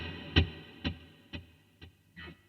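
A guitar note is struck and repeats through a Flamma FS03 digital delay pedal, five echoing hits spaced evenly and fading as they go.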